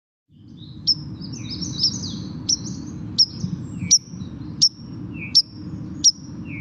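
A wild bird's call repeats as sharp, high chirps about every 0.7 seconds, clear and close over a low steady background hum.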